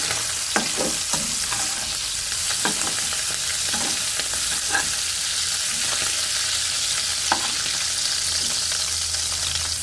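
Kochur loti (taro stolons) with shrimp frying in a pan give a constant close sizzle, broken by occasional scraping stirs and light knocks of a utensil against the pan.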